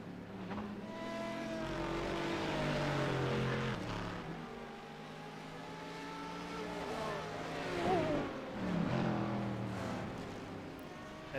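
High-downforce Honda LMP2 prototype race car, number 451, in a racing video game, its engine droning and revving with rising and falling pitch sweeps as it accelerates, fairly steady and moderately loud.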